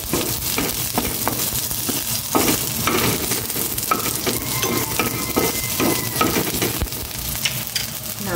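Onion frying in a little cooking oil, a loud, close, crackling sizzle with repeated stirring scrapes and knocks of a utensil against the pan.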